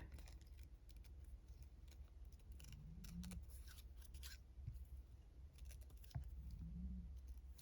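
Scissors snip paper for a papercraft junk journal in small, fussy cuts. Quiet, close, crisp clicks and rustles come in scattered bursts over a low steady hum.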